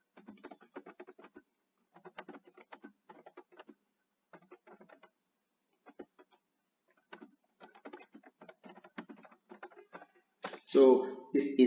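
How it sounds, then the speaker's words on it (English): A computer keyboard being typed on to enter a quiz question, with soft clustered keystrokes in short runs and pauses, ending in a louder burst of sound. "So I type in the question"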